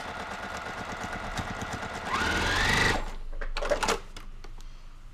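A sewing machine stitches a quilt block seam in a steady mechanical chatter, speeding up into a louder, denser run of stitching midway before slowing, with a few faint clicks and handling sounds at the end.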